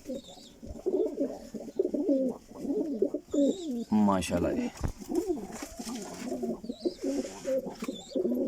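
Pigeons coo repeatedly and close by in a small breeder loft of Sialkoti pigeons, making a steady stream of soft, rolling calls while someone speaks briefly.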